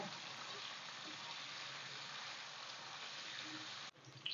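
A steady, soft sizzle of mixed vegetables, including potato, carrot and egg, lightly frying in oil hisses continuously, then briefly cuts out near the end.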